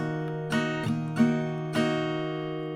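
Acoustic guitar strummed in a few quick strokes, every chord left ringing openly and sustaining into the next, close and clear with no talking.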